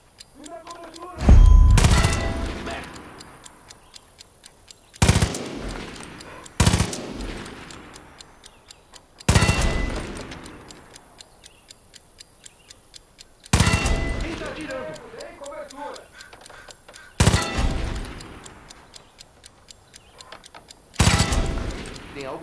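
Bursts of video game gunfire from Far Cry 5, loud and close, arrive every few seconds with reverberant tails, while a steady ticking runs underneath.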